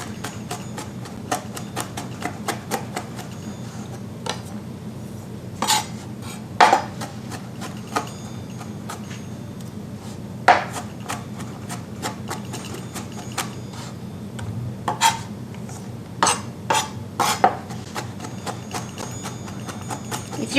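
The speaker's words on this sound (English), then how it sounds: "I'm going to chop some garlic right now" A knife chops garlic on a cutting board in sharp, irregular taps. Isolated knocks and short clusters sit over a low, steady background hum.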